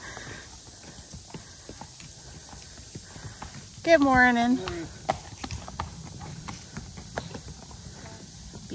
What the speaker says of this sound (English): Look at all of the horseback riders coming by.